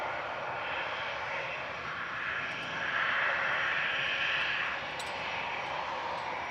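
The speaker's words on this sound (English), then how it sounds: "The Virgin A350-1000's taxiing out now." A Virgin Atlantic Airbus A350-1000 taxis at Manchester Airport, its jet engines giving a steady, moderately distant whine and broadband roar that swells slightly midway and holds without a break.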